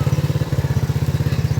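A motorbike being ridden thumps close by with a fast, even engine pulse, steady and loud across the short stretch, with no talk over it.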